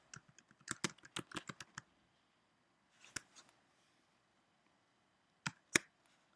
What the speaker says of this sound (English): and I type it in.